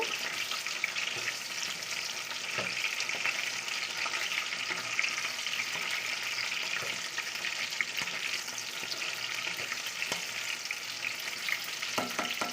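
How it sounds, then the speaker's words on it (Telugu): Stuffed eggplant curry sizzles and fries steadily in a pan while it is stirred, with a constant hiss and occasional soft clinks of the spoon, close and alone. "వంకాయలు ఒకసారి కలుపుదాము బాగా మగ్గిపోవాలి"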